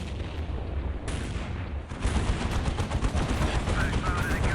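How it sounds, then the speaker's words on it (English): Dreadnought autocannons in the Warhammer 40,000 game Dawn of War fire dense, rapid, loud bursts that blend into a continuous battle roar, with overlapping shots and booms throughout. "Autocannons from the Dreadnought going to make short work of these Cassicans"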